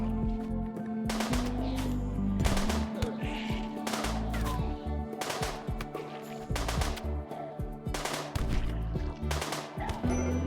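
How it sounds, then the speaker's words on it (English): Repeated automatic gunfire aimed at a shambler in the video game Rimworld, rapid bursts of shots one after another over a steady musical backdrop. "I'm gonna try to shoot it"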